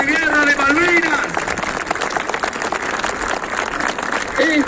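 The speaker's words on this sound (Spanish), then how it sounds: "El aplauso con todos nuestros veteranos de guerra de Malvinas." A large crowd applauds Malvinas war veterans at a city tribute marking 40 years since the war, a dense, steady wash of clapping and cheering with voices mixed in throughout.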